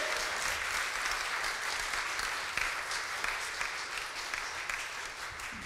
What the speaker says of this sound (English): can we please give a round of applause for Paul Stephan, our amazing band and our choir